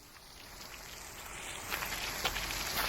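Steady pouring rain forms a dense, even hiss that swells slightly toward the end and is heard alone with no voices, used as an audiobook sound effect.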